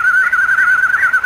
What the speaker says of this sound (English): That's a very rare nightingale.